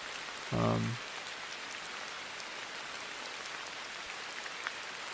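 Steady rain pattering on a surface as a background soundscape, a constant even hiss throughout, with one brief tonal beep near the start.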